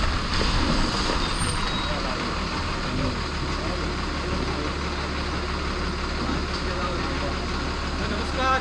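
A large bus engine rumbles and idles nearby as the bus arrives in a Konkan village, with a hiss of air brakes and people talking over the noise.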